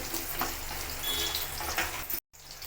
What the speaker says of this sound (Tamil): இந்த பூண்டு, சாம்பார் வெங்காயம் அதெல்லாம் சேர்த்து நல்லா ஈவனாக நல்லா வதங்கி வரணும்.